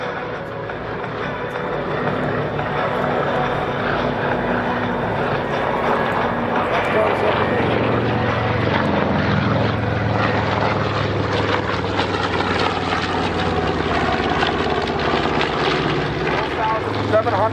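At an airshow, a propeller warplane drones steadily overhead, its loud engine growling continuously under a commentator's voice.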